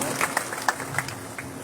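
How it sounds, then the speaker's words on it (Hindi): Steady applause from an audience at a public hearing, moderate in level with a few sharper individual claps standing out over the crowd, while a faint voice continues underneath. "जोरदार तालियों से अभिनंदन करें।"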